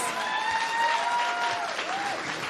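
Steady applause from a crowd at an award ceremony for a food systems innovation challenge, a continuous wash of clapping with a sustained tonal hum over it.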